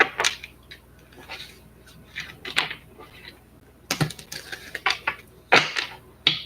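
A slippery tarot deck being shuffled by hand, giving bursts of crisp, close card riffles and flicks in uneven clusters with brief pauses between them, no voices.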